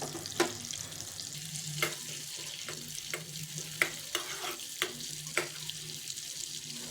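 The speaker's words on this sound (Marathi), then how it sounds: "हे बटर टाकायचे. बटर जळू नये म्हणून तेल टाकायचं कधी पण" Butter and oil heating in a kadhai for garlic bread, a soft low sizzle under a series of sharp metallic taps and clinks from a spoon against the pan, fairly quiet.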